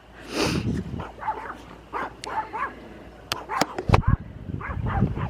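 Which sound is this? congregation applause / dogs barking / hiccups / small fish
dogs barking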